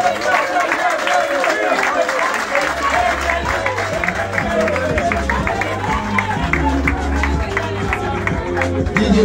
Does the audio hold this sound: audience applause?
yes